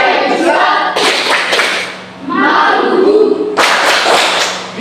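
A standing group of teachers performs the Tepuk Nusantara clap chant in a training class, sharp rhythmic bursts of loud group clapping alternating with shouted chanted words, close and energetic.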